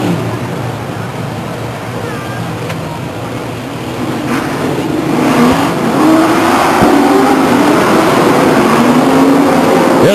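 Race cars at Stockton 99 Speedway roll down the backstretch and accelerate, a loud engine roar rising in pitch and volume over crowd ambience, with an announcer talking over it.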